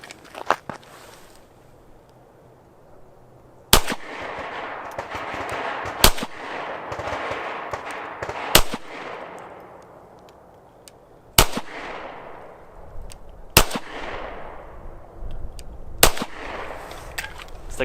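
Ruger-57 pistol fitted with a Vortex Venom red dot fired at a range, seven loud sharp single shots spaced a couple of seconds apart, each with a long echoing decay, an extra snap near the start.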